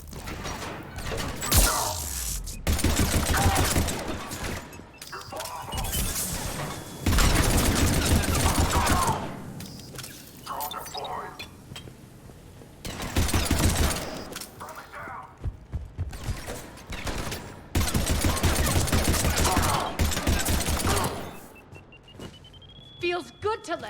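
Bursts of gunfire in the video game Mass Effect 3, long loud volleys of rapid shots broken by short pauses across the stretch, with game voices and effects mixed in.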